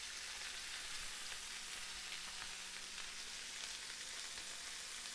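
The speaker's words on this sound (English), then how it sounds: "Hers is developing a nice sear on both sides. Mine is cooking up the side as well." Tuna steaks sear in a hot pan, giving a dense, even sizzle and crackle that holds steady throughout, close and fairly faint, with no talking.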